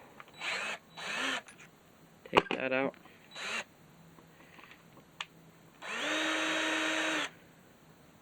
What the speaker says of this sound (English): I'm gonna get my drill,